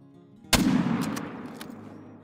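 A hunting rifle fires once at an ibex in theHunter: Call of the Wild, a single loud, sharp report with a long rumbling echo that fades over two seconds, and no talking.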